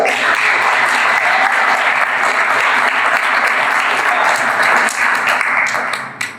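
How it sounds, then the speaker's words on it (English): Loud, dense applause from the audience at a Phoenix startup founders' event, a continuous roar of clapping that holds steady before tapering off at the very end. "Round of applause."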